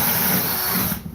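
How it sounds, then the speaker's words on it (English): Power drill boring a hole during beehive removal work, a steady loud motor whine holding for about a second before cutting off abruptly. "I think we'll need to drill a hole."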